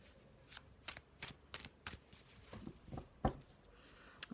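A black and white tarot deck being shuffled by hand, with a run of quick, crisp riffling bursts at a steady rhythm, close and fairly quiet, with a soft tap near the end.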